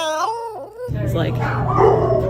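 A dog howls in a wavering, rising and falling tone for under a second, then a person talks over steady background noise as the dog continues faintly.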